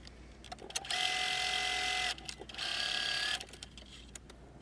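A sewing machine stitches dress darts in two steady whirring runs of about a second each, separated by a short pause, with soft handling clicks before and after.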